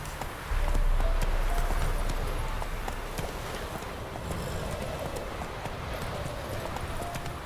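Horse Roach galloping in The Witcher 3, hooves pounding in a fast, loud clip-clop rhythm close by, easing slightly after the first second and continuing steadily.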